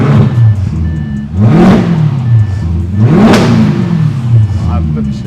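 Tuned VW Golf MK6 GTI Stage 4 engine revved in short bursts, two strong rising-and-falling revs that climb and drop sharply, loud and close, with people talking around the car.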